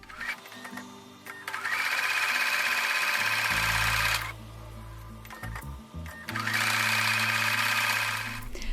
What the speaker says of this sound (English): So I'm going to take that over to the sewing machine now.